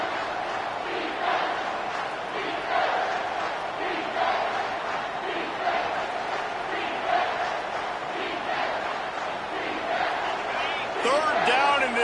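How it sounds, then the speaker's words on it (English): A packed stadium crowd roars in an NCAA college football video game during a late third-down defensive stand, a loud sustained wall of cheering and chanting that swells slightly, with commentary voices over it. "this crowd will blow out a vocal cord to help this defense"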